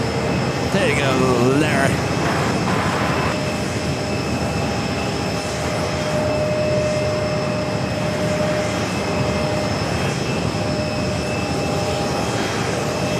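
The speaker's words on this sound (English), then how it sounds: "Wow, it's a smooth landing." Jet airliner rolling out and taxiing after touchdown at JFK airport, a steady, loud engine roar that holds throughout, with a radio voice speaking briefly near the start.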